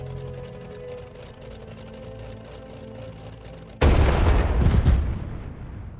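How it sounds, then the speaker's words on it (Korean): Opening artillery fire of World War II at Danzig in 1939 erupts as a loud, sudden blast with rumbling roar after a low droning stretch, then decays into heavy reverberating noise. "제2차 세계대전의 첫 번째 대포가 단치히에서 발사됩니다"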